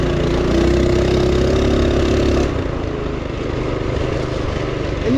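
A propane-powered Mega Moto 212cc mini bike with a bone-stock engine runs close by, a steady buzzing drone with a faint whine that drops to a lower, rougher note partway through.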